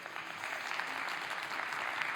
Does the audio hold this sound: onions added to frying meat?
no